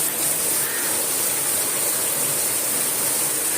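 Heavy storm rain pours steadily in Chennai, a dense continuous hiss and roar of falling water close by with no breaks, loud throughout and no voices.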